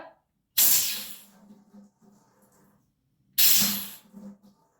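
Compressed air blasts through the old fuel line of an abandoned 1988 Jeep YJ, purging stale gas. Two loud, close hissing bursts come about three seconds apart, each tapering off into quieter sputtering and gurgling.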